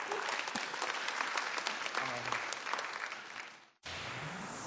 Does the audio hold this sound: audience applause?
yes